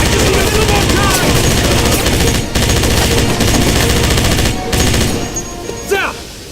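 Sustained automatic gunfire from the 2009 video game Wolfenstein at a train station, dense rapid bursts running almost continuously and loud throughout with brief gaps, ending in a sharp rising whine.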